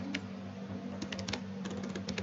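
Keystrokes on a computer keyboard while code is typed, a steady run of close, crisp clicks in uneven bursts over a low constant hum, with no talking.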